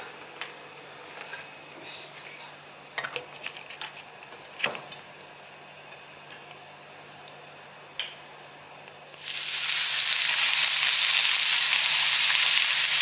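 Chopped onion frying in a pan for prawn biryani, starting with sparse faint ticks and clinks, then a steady loud sizzle bursting in after about nine seconds and holding to the end.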